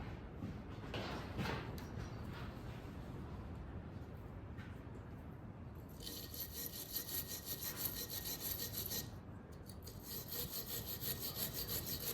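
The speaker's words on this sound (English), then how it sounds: "Get a little wire brush, see if I can clean those threads up some." A small wire brush scrubbing bolt threads on a 1952 Jacobsen Lawn Queen reel mower, a close, continuous rasping scrape in back-and-forth strokes that grows harsher and brighter partway through, with no talk.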